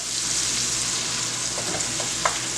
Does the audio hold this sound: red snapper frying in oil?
yes